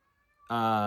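A pet cat lets out a single loud, close meow that starts abruptly halfway through and holds as a drawn-out, whining tone, with a faint thin hum before it.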